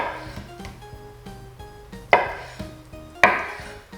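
A knife dices extra firm tofu on a cutting board, giving a steady series of crisp, close chops at an even rhythm, with two sharper, louder knocks standing out.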